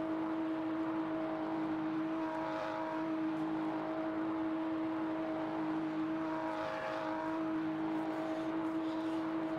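A race car engine in the sim racing game RaceRoom Racing Experience holds a steady, even droning hum, fairly faint and continuous throughout, with no one talking over it.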